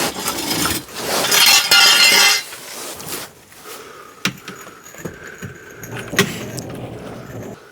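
A Fiat Doblo van in Royal Mail edition eases into a garage after its wheels go back on: a loud, rough rumble for a few seconds, then quieter rolling with scattered glassy clinks and knocks.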